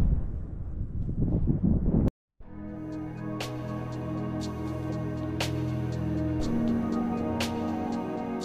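Wind buffeting the microphone near Savica waterfall in Bohinj, a steady low roar with a brief dropout, then continuing gusty rumble with faint tonal hum and occasional taps.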